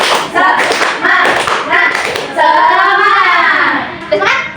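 Schoolchildren in a fourth-grade Indonesian language class perform the 'tepuk semangat' clap chant, rhythmic clapping mixed with loud chanting voices, close and lively, with a sustained sung phrase in the middle.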